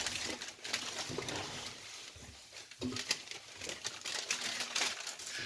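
Baking paper crinkles and rustles up close in irregular bursts, with soft taps and handling noises and no talking.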